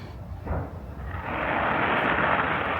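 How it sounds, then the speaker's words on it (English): Fireworks during a castle show at Disney rumble as a distant burst, followed by a sustained broad roaring wash that swells and holds steady, heard from afar with no talk. "Fireworks are going off. The castle show must be going on."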